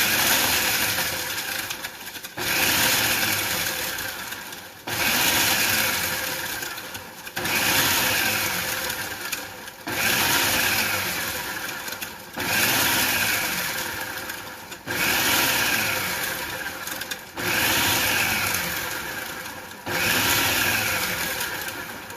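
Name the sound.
food processor chopping bread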